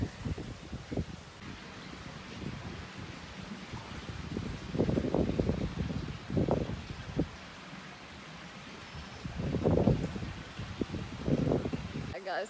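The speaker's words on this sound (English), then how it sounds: "it's very windy right now" Gusty wind buffets the microphone in uneven bursts, swelling louder twice, with faint rustling underneath.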